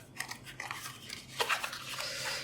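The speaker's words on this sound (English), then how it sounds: "let's open the seal of this smart plug" Faint, scratchy rubbing and tearing as the seal is opened on an Amazon Alexa smart plug package: several short rustles, then a brighter rip near the middle, with no voices.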